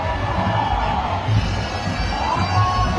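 A dense crowd cheers and shouts continuously at a Pune Ganpati immersion procession in the rain, a steady roar of many voices with whoops rising over it.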